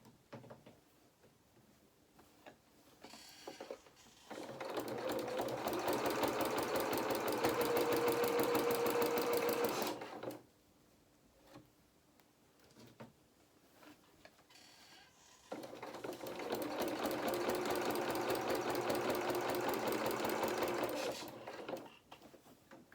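A sewing machine stitches a seam on a small winter skating coat in two long, steady runs of close, loud, even whirring, separated by a quiet pause with faint handling.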